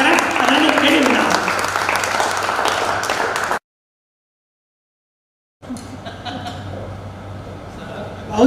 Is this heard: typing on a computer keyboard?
no